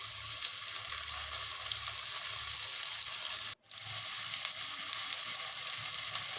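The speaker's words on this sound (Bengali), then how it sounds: "এখন পেঁয়াজটাকে ভেজে নিব।" Onions frying in hot mustard oil in a pot, heard as a steady, close sizzle with faint stirring, broken by one brief dropout midway before the frying hiss resumes.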